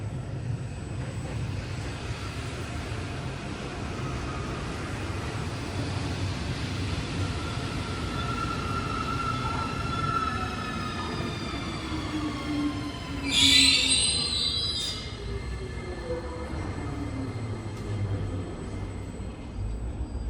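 Alstom metro train on Paris Line 1 pulling into a station, a steady low rumble of wheels and motors with long gliding whistle-like squeals from the wheels, and a brief brighter squeal burst midway, with no voices.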